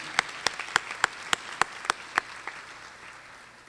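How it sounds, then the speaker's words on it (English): A few people clap at a college honors recognition ceremony, distinct single claps in a steady, evenly spaced rhythm, about ten in all, fading out into quiet room tone. "she deserves a round of applause as she comes"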